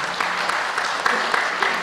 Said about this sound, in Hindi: ताली आप लोग बजा सकते हैं